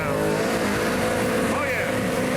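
A 1968 Chevy Camaro doing a drag race burnout, a loud steady engine roar with screeching tire noise and a rising sweep partway through, close and continuous, with commentators talking over it.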